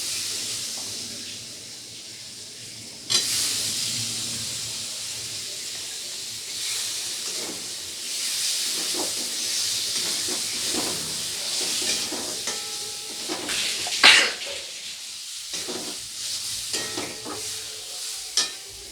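Chopped tomato goes into a pan of spices already fried together for an egg pitha dish, raising a steady, close sizzling hiss after a quiet start, with stirring scrapes and a brief sharp flare of sputter partway through.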